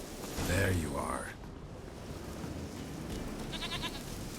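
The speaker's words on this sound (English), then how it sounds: "Here, goat." A goat in The Witcher 3 video game bleats once loudly and close at the start, a wavering nasal call over windy outdoor ambience, followed by quieter background sounds.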